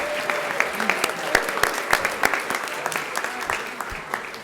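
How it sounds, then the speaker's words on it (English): Applause from a room of guests at a dinner honouring state senators, a dense round of clapping with sharp individual claps, steady and fairly close, then thinning slightly toward the end. "Let's get one more big round of applause for all of our colleagues in the State Senate."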